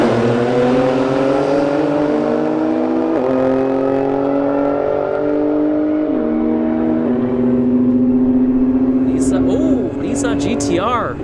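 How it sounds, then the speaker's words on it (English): Engine noise at a drag strip, a Porsche 911 against a Nissan GTR, with loud, steady, rising harmonic engine tones that hold throughout, shifting as the cars change gear, with a person talking over them. "we have a Porsche 911 versus a Nissan GTR"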